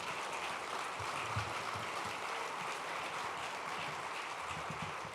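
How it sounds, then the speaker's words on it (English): An audience at a Santa Barbara State of the County event applauds its chamber board, a steady, quiet wash of many hands clapping that sounds distant and continues evenly throughout. "Could everyone stand and we could just give a round of applause to our board?"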